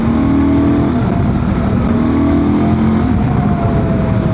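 A remapped Honda Transalp 750 motorcycle engine pulls in fourth gear from around 4,000 to 4,500 rpm, giving a loud, steady, close droning roar with a slowly rising tone and no talking.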